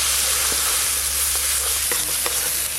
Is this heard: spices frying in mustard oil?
yes